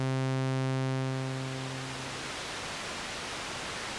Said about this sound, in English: Now let's try white noise.